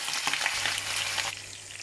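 Mushrooms sizzle and crackle in a hot pan, a steady hissing fry close by that thins out toward the end.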